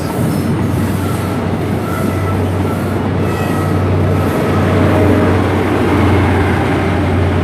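Hauled passenger train departing Exeter St Davids for Penzance, loud and close, with a steady low engine drone, rolling wheel noise and faint squeals, continuous throughout with no talking.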